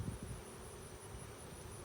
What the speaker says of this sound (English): Now I hear the bees fanning